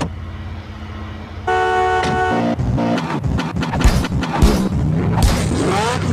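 A car driving in GTA San Andreas, with engine noise, a sustained horn-like tone and a series of thumps and crashes as the vehicle moves along a city road.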